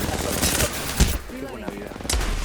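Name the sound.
gunfire in a video game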